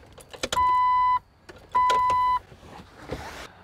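Ignition key being turned in a 2004 Jeep TJ Wrangler with a starter that won't crank: a few close clicks and two steady electronic warning chimes, with no engine turning over.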